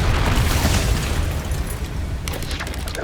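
A Confringo fire spell in Hogwarts Legacy bursts in a loud, heavy booming explosion that rumbles and decays over a few seconds, with a brief crackle of debris near the end.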